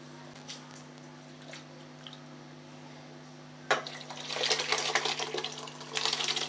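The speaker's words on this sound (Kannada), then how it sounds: "ಮಿಕ್ಸಿಗೆ ಸ್ವಲ್ಪ ನೀರು ಹಾಕ್ಕೊಂಡು ಅಳ್ಳಾಡ್ಸ್ಕೊಂಡು ಹಾಕೋತಾ ಇದ್ದೀನಿ." Water is swished around inside a mixer jar and poured into a pot of dry fish sambar. A quiet hum comes first, then a sudden splashing pour that runs steadily for the last few seconds.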